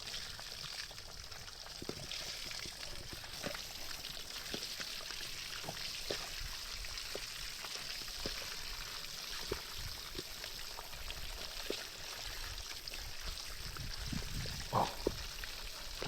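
Water flows in a steady rushing stream, with small splashes and drips popping out of the constant wash of sound.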